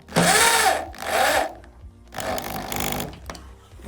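A power screwdriver driving screws while an IKEA IDÅSEN desk is assembled, two short close whirring bursts, a brief pause, then a longer lower run as the screw seats.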